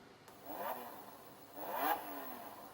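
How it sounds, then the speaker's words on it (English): A simulated Lamborghini engine sound effect plays from the start-engine button of a Lamborghini VX7 laptop, giving two short revving swells, the second louder, through a small speaker. "the standard Lamborghini engine sound"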